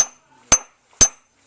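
A hammer cold-forging a blade edge during peening gives four sharp, ringing metallic strikes, evenly spaced about half a second apart, close and loud with nothing else in between.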